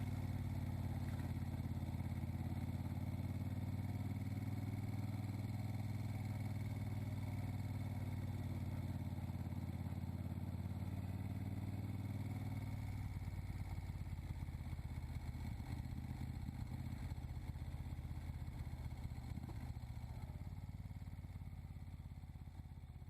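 A 1972 Moto Guzzi Eldorado motorcycle engine idles steadily and close by, a low throbbing rumble with light mechanical clatter that eases slightly partway through and then holds on alone.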